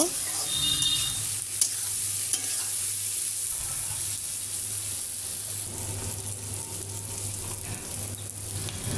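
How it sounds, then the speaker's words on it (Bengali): Raw jackfruit curry being stirred in a pan after turmeric powder goes in: a steady, close scraping and soft sizzle that runs continuously with small clacks of the spoon, no talk. "এরপর দিয়ে দিলাম হলুদের গুঁড়া, তারপরে আবার একটু নেড়ে চেড়ে দিব।"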